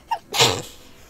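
A single sharp sneeze, close and loud, preceded by a quick inhale.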